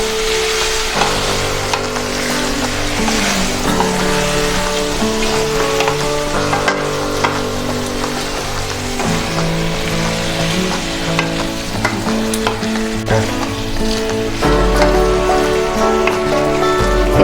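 Chicken and fried potato pieces for a Bengali-style chicken curry are stirred in a frying pan with oil and spice masala. A steady close sizzle runs under repeated scraping and stirring strokes, with no voices.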